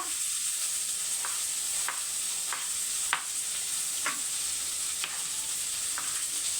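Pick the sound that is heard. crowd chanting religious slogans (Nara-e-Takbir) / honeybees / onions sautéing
onions sautéing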